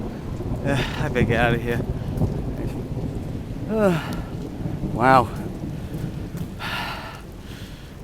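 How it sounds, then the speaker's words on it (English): Rain and thunder from a sudden storm on a street in Tangier, with steady hissing rainfall throughout and low rumbles, heard under someone talking and exclaiming close by. "Thunder, lightning, very, very threatening."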